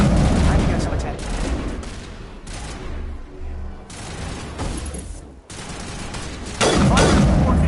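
Gunfire in Mass Effect Legendary Edition, with dense bursts and rapid volleys from a firefight, loud and sustained, mixed with in-game voices and booming impacts.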